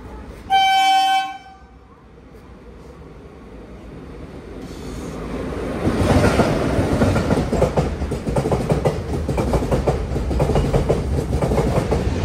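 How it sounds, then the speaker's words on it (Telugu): A MEMU express train from Kakinada Port to Visakhapatnam sounds a short horn toot, then rolls on with a loud steady rumble and clickety-clack of wheels, heard from on board without talk. "సో ఇప్పుడు మన ట్రైన్ ఇలా స్ట్రైట్ గా వెళ్తుంది."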